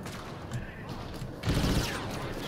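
Gunfire in the multiplayer shooter Call of Duty: Vanguard on a D-Day-style map, with a steady crackle of shots that swells into a louder burst near the end.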